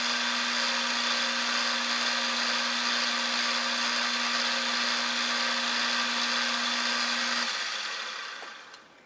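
A lathe turns metal down to size in a steady, close mechanical whine with a constant hum, running evenly before winding down near the end, no voices.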